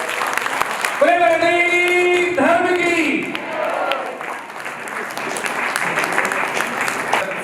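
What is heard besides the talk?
audience applause at an Arya Samaj ceremony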